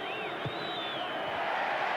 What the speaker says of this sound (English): The crowd likes it.